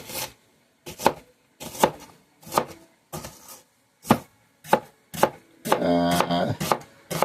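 A knife chops onions on a cutting board in about eight distinct, evenly spaced knocks, followed by a longer rough scraping sound, all close and clear.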